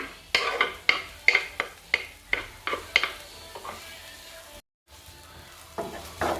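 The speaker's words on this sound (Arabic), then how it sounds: "دونك شويه ديال الزيت، غادي نضيف البصله، 2 بصلات مشلضين،" Two chopped onions frying in oil, stirred with a utensil that knocks against the pan in quick repeated clicks over a soft sizzle, then a brief pause before the stirring resumes.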